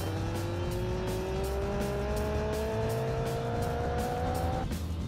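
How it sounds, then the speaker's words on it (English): Ack Attack streamliner motorcycle accelerating on a land speed record course, a steady loud engine drone with pitch rising gradually over several seconds, then cutting off abruptly near the end; no talking. "The machine is picking up speed, but this time, the engines are misfiring."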